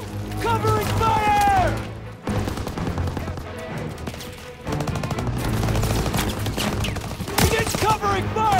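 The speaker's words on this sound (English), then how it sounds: "Begin covering fire!" Covering gunfire in Call of Duty WWII, dense rapid bursts of rifle and machine-gun shots crackling continuously and loudly, with shouting voices over the battle.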